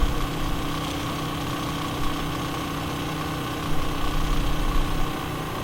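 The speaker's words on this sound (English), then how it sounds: "It picks up a lot of engine vibration." Yamaha XT250 motorcycle engine running at idle, a steady close drone with buzzing vibration and a slight rise near the end, no talking.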